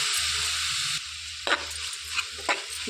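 Ground spice powder is stirred into a broad bean curry in a pan, giving a soft sizzle at first, then a few scraping stirs with short bursts of frying noise.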